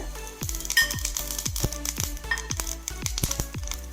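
Cumin seeds and green chillies frying in a hot pan, with a steady sizzle broken by frequent sharp spattering pops and crackles, close and fairly loud.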